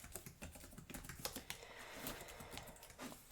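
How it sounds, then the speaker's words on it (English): Typing on a computer keyboard in a quiet office setting, a close, soft run of rapid key taps with irregular rhythm and small pauses, heard alone. "Let me type it into our system."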